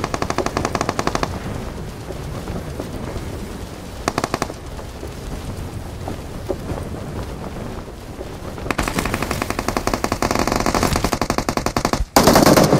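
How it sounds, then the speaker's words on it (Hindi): Rapid automatic gunfire in the mobile battle-royale game BGMI, loud dense bursts that run through most of the stretch, heaviest at the start and again toward the end, with no talk over it. "सामने की तरफ से शॉट्स वगैरह आ रहा था"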